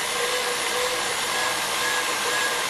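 Electric mixer beating egg whites at speed 8 for an opera cake: a steady, close, high motor whir with a faint whisking hiss, unbroken across the whole short stretch, with no voices.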